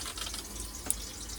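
A shower runs aboard a boat, giving a faint, steady hiss of flowing water with a small splash, brief and without voices.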